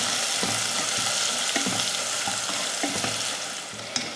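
Onions and curry leaves sautéing in oil for a roadside-style empty kurma, a dense continuous frying crackle with repeated stirring scrapes of a ladle in the pan, loud and close.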